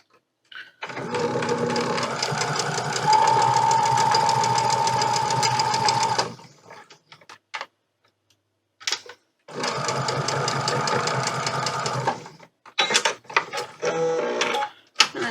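Sewing machine stitching quilt fabric in two long bursts of rapid, steady whirring, separated by a pause and followed by short stop-start runs, close and clear.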